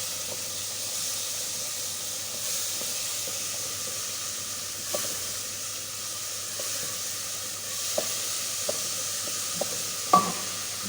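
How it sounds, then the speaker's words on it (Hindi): Chicken frying with tomatoes in a pan for a restaurant-style Turkish chicken dish, a steady close sizzle and hiss throughout with occasional faint clinks and stirring scrapes. "तो फिर इसमें चिकन डालते हैं, थोड़ी सी हल्के से होते हैं टमाटर, चिकन डाल के भून लेते हैं"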